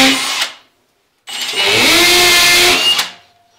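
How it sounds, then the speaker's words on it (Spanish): A power drill fitted with a 1/4 inch bit, installing laminate interior wall panelling; a short whir is followed by a pause, then a louder, longer spin that rises in pitch and cuts off, heard close up. "luego ocupo la broca definitiva, que sería en este caso broca de 1/4"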